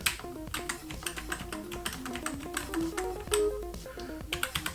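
Keys are pressed in rapid succession on a Teenage Engineering EP-133 KO II sampler, sharp clicky taps mixed with short pitched notes stepping through a scale, close and moderately loud with no speech.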